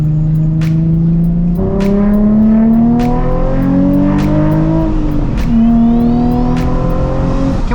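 A Nissan 350Z HR's engine and exhaust revving up through several gears, each pull rising in pitch before a quick shift, loud and close throughout.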